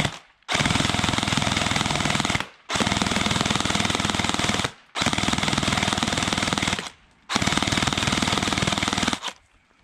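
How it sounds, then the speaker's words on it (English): Four long bursts of rapid full-auto gel blaster fire, each around two seconds, separated by short pauses, loud and close. "Thing is a bloody jackhammer."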